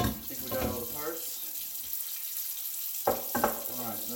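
A kitchen sink faucet runs steadily during kitchen cleaning, water splashing into the basin with a brief quieter gap, then a few clatters and splashes as it resumes.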